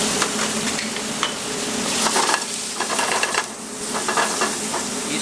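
Beef filet searing in a very hot pan, a loud, close, continuous sizzle and hiss with occasional crackles and scraping as the meat is moved, the sizzle swelling and easing throughout.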